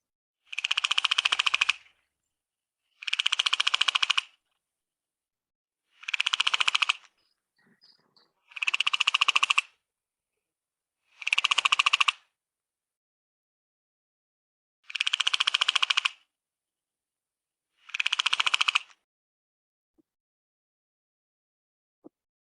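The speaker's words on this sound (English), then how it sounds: "Common skittering frog." Seven loud, evenly spaced bursts of skittering calls from a common skittering frog in the Sundarbans, each a rapid rattling trill about a second long, set apart by silent gaps, with no voices.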